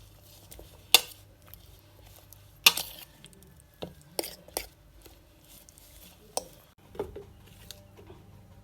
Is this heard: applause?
no